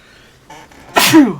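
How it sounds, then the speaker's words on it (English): A single loud, close sneeze bursts out after a brief, quiet inhaling buildup. "Why did the sneeze hurt?"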